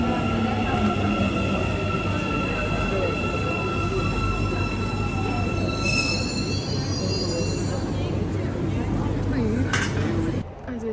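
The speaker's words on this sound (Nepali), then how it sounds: "टाक्सिमको ट्रेन चढ्न थालेको, आउन थाल्यो।" Taksim metro train pulling into the station, its wheels squealing loudly and steadily with high metallic whines over a deep rumble, ending with the train slowing to a halt.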